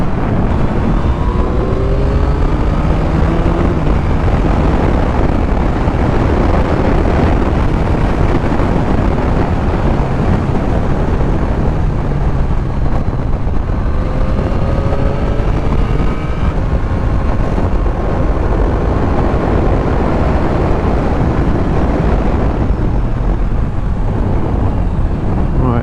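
Yamaha MT-09 third-generation motorcycle on a test ride, steady loud engine drone smeared by heavy wind buffeting across the microphone, with pitch rising and falling through gear changes.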